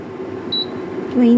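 A short electronic beep from a kitchen timer being set while a pot of Chinese soup boils on high heat, a brief high tone followed by another beep, close by.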